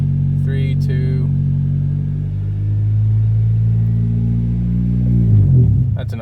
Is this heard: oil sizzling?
no